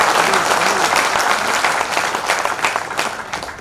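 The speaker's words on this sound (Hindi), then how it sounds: "आपकी तालियों से मुझे पता चलेगा कि आप कहते हैं कि इनको अवार्ड" An award ceremony audience in Mumbai applauds loudly with dense sustained clapping that slowly tapers off, with no talk over it.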